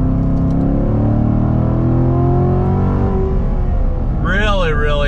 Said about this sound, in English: Love the sound of that freaking exhaust. Nice downshifts.